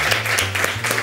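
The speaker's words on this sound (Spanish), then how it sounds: "Un aplauso para él, por favor." Studio audience on a TV quiz show claps in short bursts over a low hum, the applause brief and moderately loud.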